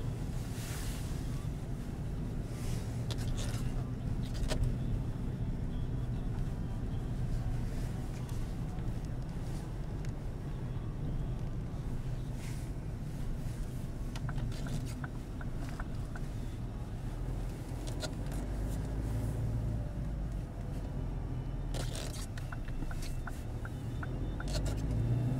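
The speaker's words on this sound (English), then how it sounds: "Engine is cold." A cold Ford Focus 1.6 TDCi diesel engine runs outdoors with a low, steady rumble, faint beneath gusty wind noise.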